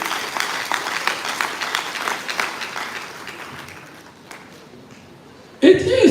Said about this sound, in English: Another round of applause for him.